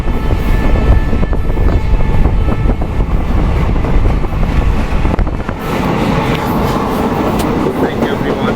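A passenger train rolls through Ambassa railway station in Tripura, a loud continuous rumble with clattering wheels that eases slightly toward the end.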